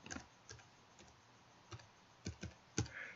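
A computer keyboard is typed on in a few light, scattered key clicks and a space-bar tap, close and quiet, with no voice.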